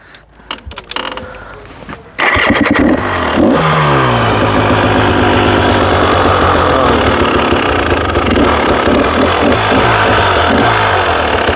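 A motocross motorcycle starts after a few clunks, then its engine runs loud and close, idling and revving steadily for the rest of the stretch without any speech.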